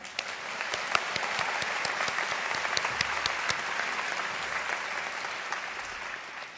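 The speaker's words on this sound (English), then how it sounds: "Let's all give us a round of applause for the class of 2024." A crowd at a College of Wooster commencement ceremony claps steadily for the class of 2024, dense applause with sharp individual claps popping out, moderately distant and unbroken by speech.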